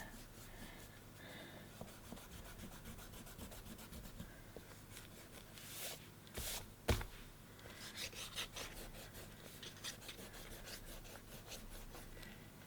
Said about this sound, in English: I was going to erase all the lines